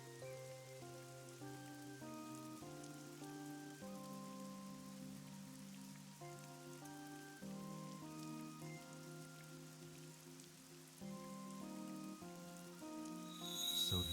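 Rain falls softly in AI: The Somnium Files, a faint steady hiss beneath gentle melodic music, with no voices.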